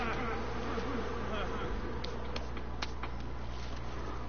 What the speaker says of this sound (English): Because the bees will swarm for a while.